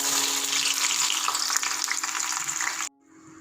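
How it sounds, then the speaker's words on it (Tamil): Sliced onions fry in hot oil until golden brown for chicken dum biryani, a loud, close, steady sizzle and crackle that cuts off abruptly near the end, leaving near silence. "தம் பிரியாணிக்கு நம்ம கொஞ்சம் ஆனியனை இப்படி கட் பண்ணிவிட்டு இதை ஃப்ரை பண்ணி எடுத்துக்கணும்"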